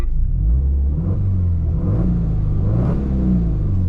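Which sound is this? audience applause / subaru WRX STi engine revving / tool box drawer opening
subaru WRX STi engine revving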